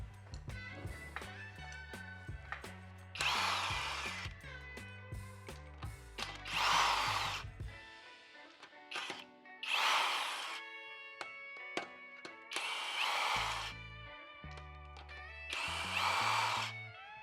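An impact gun with a 21mm non-marring socket breaks loose the lug nuts on a Tesla Model S Plaid, giving several loud, whirring bursts of a few seconds each with short gaps between them. Background music plays throughout.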